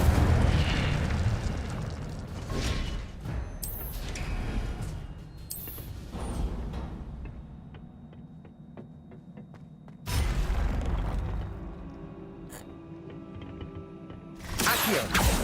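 Burst of crackling, roaring fire-spell blasts from Hogwarts Legacy, with several loud whooshing bursts around the start, middle and end over a steady game ambience of rumble and clatter.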